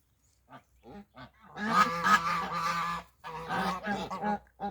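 Geese honk loudly in a noisy cluster in a village farmyard, overlapping calls close by, with a few softer clucks from chickens before and after.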